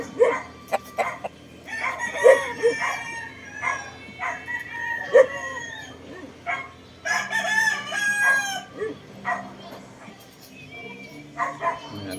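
A one-year-old rooster, a red-eyed gamefowl offered for sale in a backyard, crows loudly and nearby several times, while a dog barks intermittently and someone talks throughout.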